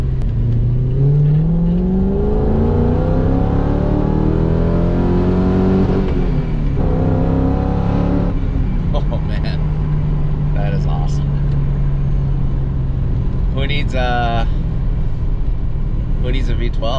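Resto-mod BMW 850i with an M5 V8 engine driving, rising and falling engine note under steady interior road noise, with people talking over it from inside the car.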